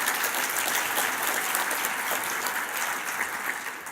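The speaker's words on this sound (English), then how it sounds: "So if we could just give a round of applause for the great panelists that we have here tonight." Steady applause from an evening audience at a mobility pricing panel, a dense wash of many hands clapping together for the panelists, sustained at even strength from start to finish.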